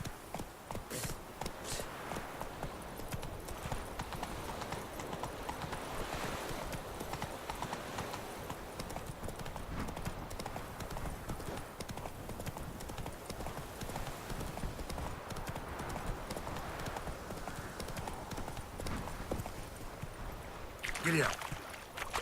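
Roach the horse's hooves in The Witcher 3 beat a fast, steady clip-clop rhythm under ambient game sound, with a speaking voice also present.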